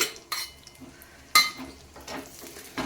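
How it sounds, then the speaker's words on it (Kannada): Chopped cashews and dates fry in ghee in a pan while a metal spoon stirs and scrapes, giving intermittent clinks and soft sizzling scrapes, close and moderately quiet, no one talking. "ಈಗ ಎರಡನ್ನು ನಾನು ಚೆನ್ನಾಗಿ ಫ್ರೈ ಮಾಡ್ಕೋತೇನೆ"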